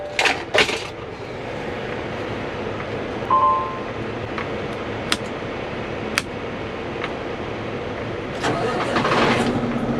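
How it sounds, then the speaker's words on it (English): A pickup truck engine cranks and catches near the start, then settles into a steady low idle with a few faint clicks and knocks over it. "Let's start her up, get it running, warm it up"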